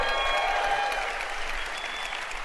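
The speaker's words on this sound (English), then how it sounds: "Let's give Howard a round of applause" Audience applause for Howard Berg, the world's fastest reader, at a live business event in Boise; steady dense clapping with a few cheers, continuous and fairly close throughout.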